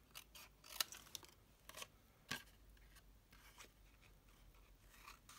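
Scissors snip quietly several times, notching and trimming fabric flaps on a mini handbag, with soft separate cuts and faint rustling between them.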